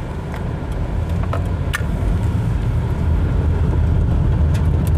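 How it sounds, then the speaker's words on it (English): Road noise inside a 1996 Nissan Maxima 3.0i with 302,000 km on the clock while driving, a steady low rumble and tyre roar filling the cabin, gradually swelling slightly, with no voices. "all you can hear is road noise"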